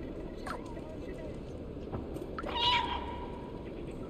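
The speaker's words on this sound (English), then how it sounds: "Meow meow niya." Meowing from the cat in the video game Stray, with a couple of short, faint cries early and one clearer, louder meow near the end over a steady game soundscape and some talk.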